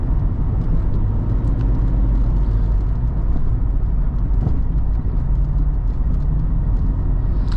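A 1997 Jeep Cherokee with a 4-speed automatic heard from inside while accelerating as the transmission kicks down: a loud, steady low engine and road drone with no talk.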